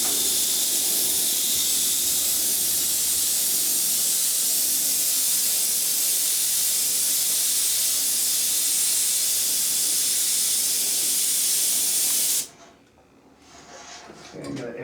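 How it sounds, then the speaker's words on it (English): An airbrush sprays paint with a continuous, even hiss for about twelve seconds, close and loud, then cuts off sharply, followed by a fainter brief spray and quiet handling noise. "So we're going to go ahead and continue spraying this other side."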